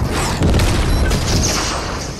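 Shots are fired at a tank in the video game Fortnite: a dense, loud barrage of booming gunfire and rumbling impacts that runs without a break.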